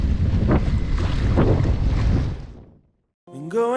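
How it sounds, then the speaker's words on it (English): Strong 20 to 25 mph wind on Bush Lake buffets the microphone with loud, gusting rumbles for a few seconds, then drops away to near silence before a burst of music starts. "It's supposed to be windy today, 20 to 25 mile an hour wind"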